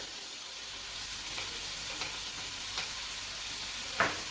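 Chopped okra is stirred into a hot pan of masala and fries with a continuous sizzle, while occasional utensil scrapes and a sharper clink near the end punctuate the steady hiss.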